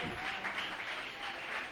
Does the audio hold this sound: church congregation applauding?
yes